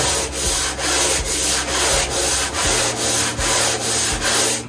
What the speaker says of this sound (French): Et après tout simplement je me promène sur la bande de ponçage.